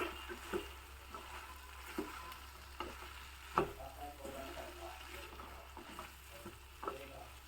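Spoon stirring masala powder into a dish in a pan, soft scraping strokes and intermittent light clicks of utensil against metal, quiet and close, with faint sizzle beneath.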